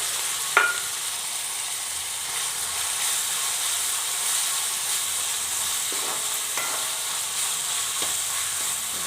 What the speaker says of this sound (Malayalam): അത് നല്ലവണ്ണം ഒന്ന് മൂത്ത് വരട്ടെ സവാളയൊക്കെ